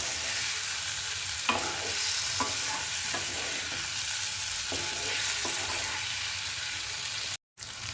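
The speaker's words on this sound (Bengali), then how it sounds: "ফুলকপিটা দেওয়ার পরে মিনিট 2 মতো আমি খুব ভালো করে রান্নাটাকে কষে নেব।" Fried cauliflower being stir-fried in a curry pan for Bengali fulkopi dalna makes a loud, continuous sizzle. Regular spatula scrapes and knocks punctuate it, with a brief cut-out near the end.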